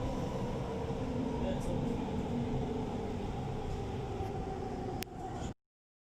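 A metro train passes through a station with a continuous loud rumble and whine that holds steady for about five seconds, a sharp click near the end, then cuts off abruptly.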